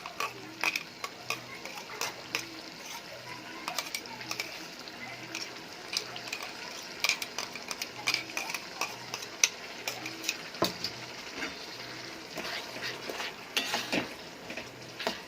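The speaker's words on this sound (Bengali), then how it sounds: "এবার নেড়ে চেড়ে ভালো করে কষিয়ে নেব" A spoon stirs ginger, garlic and tomato paste in a pan for a home-style chicken curry, with soft continuous scraping and light metallic clinks against the pan under a faint sizzle.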